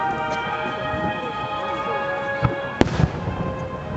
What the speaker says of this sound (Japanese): 花火割れるやんか。